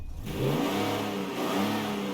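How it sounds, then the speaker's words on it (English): A 125-horsepower taxi engine in the video game Mafia: Definitive Edition revs up sharply and holds a high, steady roar, close and loud. "Oh, and it revs really good."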